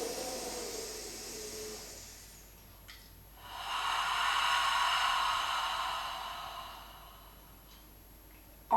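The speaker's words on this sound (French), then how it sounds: "On inspire." A slow, deep inhalation during a pilates warm-up, drawn in through the nose as a long, soft airy rush that swells and fades, heard close and alone with no talking.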